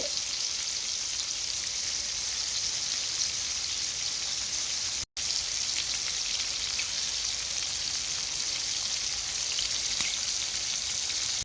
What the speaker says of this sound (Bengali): একটি ফ্রাই প্যানে তেল দিয়ে দিয়েছি তেলটা গরম হয়ে আসলে চিংড়ি মাছটা দিয়ে দেবো চিংড়ি মাছটা ভেজে নিচ্ছি